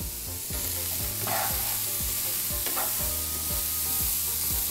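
Mushrooms salted and stir-fried over high heat, a loud continuous sizzle with a rhythmic low knocking of the pan or spatula repeating through, plus a couple of brief scrapes, no talking.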